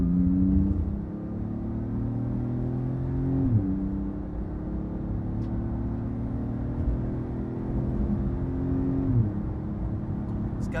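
A Porsche GT2 RS engine revs up and drops in repeated sweeps, a throaty rising whine with sharp gear-like breaks, fairly close.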